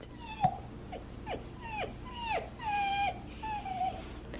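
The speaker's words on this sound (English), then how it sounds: "Do you guys have a dog that cries all the time? Because she does." A pet dog cries in a run of about eight high, falling whimpers, each a short whine that drops in pitch, coming steadily one after another at close range with no voices.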